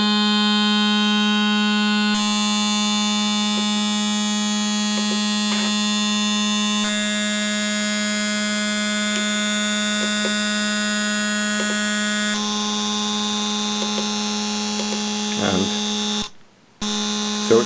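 A modular synthesizer drone run through a bitcrusher with wavefolding holds a steady buzzy harmonic tone, its timbre shifting in abrupt steps, with a few small clicks before a brief cut near the end.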